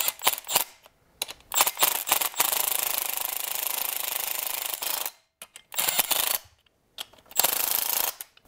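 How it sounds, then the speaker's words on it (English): An impact wrench on a low setting snugs the bolts of an Ariens snowblower friction disc, giving several loud rattling bursts, some brief and some held for a few seconds, separated by silent pauses. "I'm just going to slightly snug them on a low setting with my impact here."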